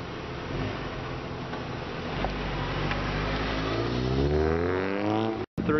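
Nissan 300ZX driving a slalom, its engine droning steadily and then revving higher as it accelerates, loud and close, with a sharp cutout near the end.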